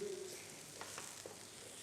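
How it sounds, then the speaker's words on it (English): Rice searing in a pan for paella, giving a soft, steady sizzle with faint stirring scrapes, fairly quiet and heard alone. "You want to sear the rice."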